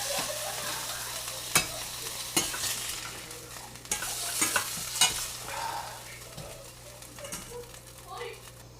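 Small pieces of chicken, cut for a honey mustard dish, frying in a pan with a steady sizzle while being stirred and turned, occasional scraping clicks, close and fairly quiet, with a voice talking over it.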